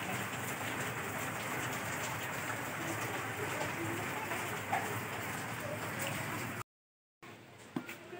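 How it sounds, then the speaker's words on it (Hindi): Steady rain falls outside in a dense, even hiss that holds loudly for most of the stretch, broken by a brief gap near the end, with faint bird calls mixed in. "बाहर बारिश हो रही है"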